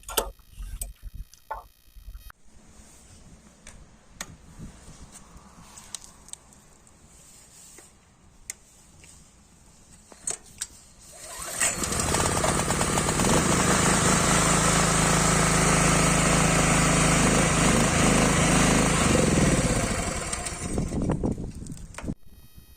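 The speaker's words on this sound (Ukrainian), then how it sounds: "закрити заслонку і заводимо за допомогою такого ручного стартера" A Sigma 3.5/4 kW petrol generator is pulled with its manual recoil starter; after scattered ticks and clicks it fires up midway and runs loud and steady for about ten seconds before winding down.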